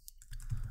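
Names typed on a computer keyboard, a quick faint key click followed by a short soft run of keystrokes, heard close with no talking.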